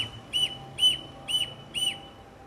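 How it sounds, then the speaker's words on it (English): Four short, high-pitched whistles from an engine compression indicator as the engine is turned over, sounding in an even rhythm, each a clear, piercing tone with quiet mechanical background between them. "you would get a whistle noise come out"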